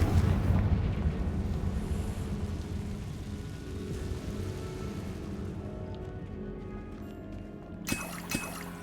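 A Confringo fire spell explodes in Hogwarts Legacy, producing a loud, sustained rumbling roar that slowly fades, with two sharper crackling bursts near the end.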